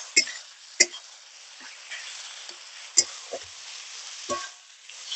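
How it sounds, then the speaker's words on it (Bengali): Hilsa fish head with taro leaves sautéing in a pan, a soft sizzle broken by several sharp scraping stirs of a spatula at irregular intervals, close and clear with no talk. "কিছুক্ষণ এইভাবে একটু কষিয়ে নেব।"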